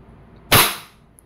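A Wingun 708 airsoft revolver fires a single plastic BB in single action, one sharp, loud, close crack that decays quickly into near silence.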